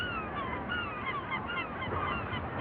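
Seabirds on an island give honking, goose-like calls that overlap continuously, with several birds calling at once over a steady wind-like background.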